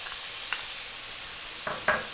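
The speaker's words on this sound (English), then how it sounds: "you want to start adding your hardest vegetables. So in my case it's celery" Celery being stirred in a hot pan for vegetable fried rice: a soft, steady sizzle with a few brief scraping clicks of the utensil, close and quiet.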